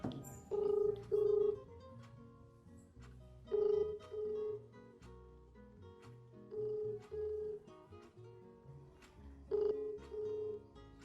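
A telephone call is placed and the ringback tone sounds in repeated paired bursts with pauses between them, over a low background hum.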